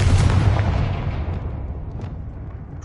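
Confringo fire spell blast in the game Hogwarts Legacy, a single heavy explosive boom at the start that rumbles and fades away over a few seconds.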